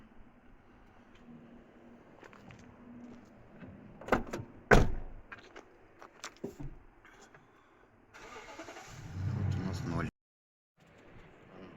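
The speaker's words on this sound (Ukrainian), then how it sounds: "Зараз відкрию двері, закрию" A car door opened and then shut, heard as a couple of sharp thuds and clunks amid quiet mechanical sounds and brief background hum, with a person speaking around them.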